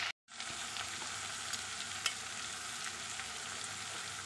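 Capsicum, salt and ground pepper stir-fried with other vegetables in a hot pan for egg fried rice, a dense continuous sizzle close up with occasional scrape of the spoon, after a brief silent gap at the start.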